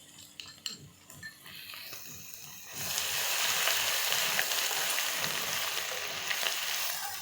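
Ginger garlic paste hits hot oil with browned onions, starting with spoon clinks and stirring, then bursting into a loud, steady sizzle that continues as a utensil scrapes and mixes in the pan.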